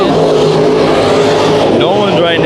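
Dirt track race cars roar around the oval at Bakersfield Speedway during a Bud Nationals heat, engines blaring loud and continuous with a passing surge near the end, while an announcer talks over the noise.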